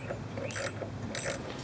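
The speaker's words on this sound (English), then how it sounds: "now we'll go to the top of the shock and we'll tighten that nut down" A nut being hand-tightened onto the top of a front shock absorber, fitted with a bushing and washer, using a 9/16 wrench; two short bursts of ratcheting clicks with quiet pauses between them, close by and with no talk.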